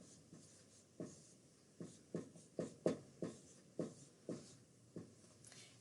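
Numbers being written on a board, a series of soft tapping and scratching strokes in an irregular rhythm, fairly faint and close, with no voices.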